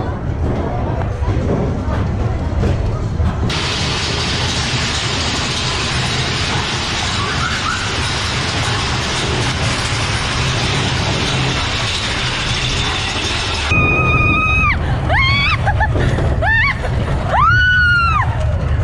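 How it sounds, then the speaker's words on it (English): The Big Thunder Mountain Railroad coaster at Magic Kingdom sends up a loud, rushing rumble that lasts about ten seconds, followed by shrill, rising screams and whoops from riders. "We are going to try the Big Thunder Mountain Railroad."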